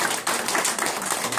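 A brief burst of clapping from an audience at a Korean cultural seminar and reunification prayer ceremony, honouring the women who cooked the meal; dense, even hand claps fill the moment without any voices.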